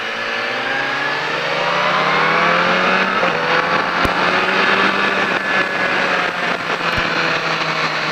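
A motorcycle accelerating hard along a race track straight, a continuous loud engine roar climbing steadily in pitch through the gears, with a couple of brief clicks, no voices.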